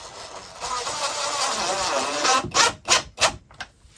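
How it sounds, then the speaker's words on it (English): A power driver sinks screws into Sonopan board on a model railroad layout, a sustained whirring run followed by several short, sharp bursts as each screw seats, heard up close. "So I'm just going to quickly put some screws down here."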